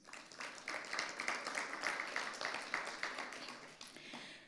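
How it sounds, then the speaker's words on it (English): Small community audience at a conference applauds steadily for several seconds, a soft, distant patter of many hands that fades slightly toward the end, with no talking. "Applaud to yourself, please."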